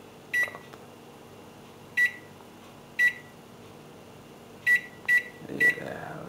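A microwave oven heating chips gives six short electronic beeps from its keypad at uneven intervals, then starts up with a low hum near the end.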